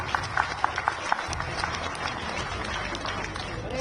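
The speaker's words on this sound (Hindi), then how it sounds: "इसलिए एक बार जोरदार तालियां आप अपने लिए" A crowd claps at an outdoor political victory rally in Delhi, with sharp scattered claps early that settle into a fainter, looser patter under a noisy, reverberant background.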